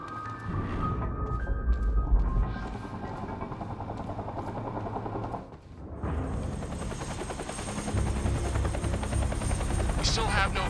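A helicopter in the Quantum Break video game sounds as a loud, continuous rotor thump with engine whine, dropping out briefly midway and then returning alongside other game sounds, with no talking.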